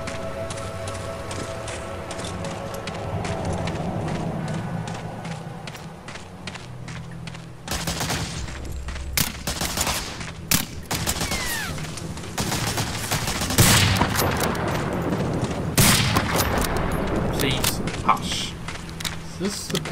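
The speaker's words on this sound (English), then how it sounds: "Someone over there is shooting at me." Enemy gunfire in Medal of Honor Allied Assault, sharp bursts of shots that grow denser partway through, with footsteps in between and someone talking over the action.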